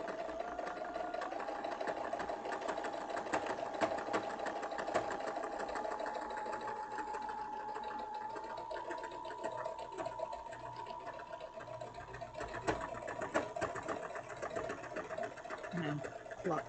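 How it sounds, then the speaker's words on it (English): A sewing machine runs steadily as it stitches fabric, giving a continuous fast mechanical whir and rapid needle clatter close to the mic, with small speed changes throughout and no talk over it. "let's go ahead and do this stitch."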